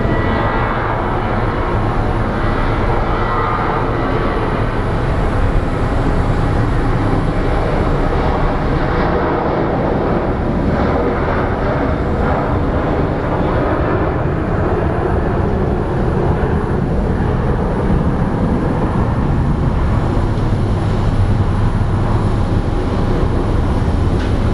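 An airliner at Phoenix Sky Harbor International Airport roars loudly and continuously, a broad steady jet-engine rumble that persists without a break for the whole stretch.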